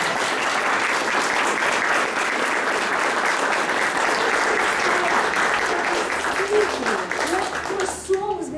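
Sustained applause from a seated audience at a motivational talk, dense and steady throughout, with a voice beginning to speak over it near the end as the clapping thins.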